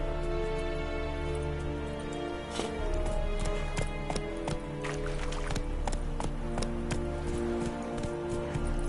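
Roach the horse gallops in The Witcher 3, rapid rhythmic hoofbeats under a steady game soundtrack, with sharp clip-clop hits recurring across the stretch.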